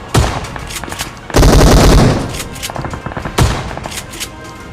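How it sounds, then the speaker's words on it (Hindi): Shotgun blasts in a solo-versus-squad shooter video game come as loud, sharp bursts, with a longer, denser volley in the middle and another heavy shot near the end. "ये शॉटगन के शॉट्स आपको कैसे लगे आप कमेंट करके ज़रूर बताना।"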